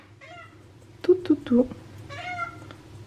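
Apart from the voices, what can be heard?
cat meowing, complaining about being on a diet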